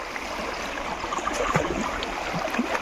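Water rushes steadily through a channel beside a farm field, a dense, even roar of flowing water up close with no voices over it.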